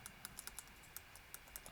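Typing on a laptop keyboard with some keys that previously worked poorly, rapid irregular soft key clicks close by, faint and with no talking.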